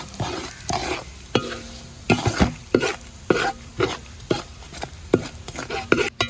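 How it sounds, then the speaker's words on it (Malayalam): Spices fry in a pan for apple champakka pickle and are stirred repeatedly, with a soft sizzle under a steady rhythm of sharp scraping strokes, close and without talk. "പിന്നെ അത് നല്ലപോലെ ഒന്ന് ഇളക്കി കൊടുക്കുക."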